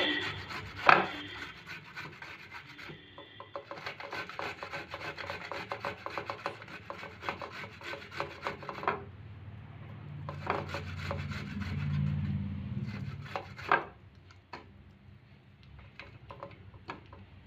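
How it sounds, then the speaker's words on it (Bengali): Indian gooseberries (amla) rubbed against a metal grater for pickle, making steady rasping strokes in quick rhythmic runs with short breaks and occasional knocks, close and moderately loud. "এই সাইডগুলো এইভাবে গ্রেট করে নেব"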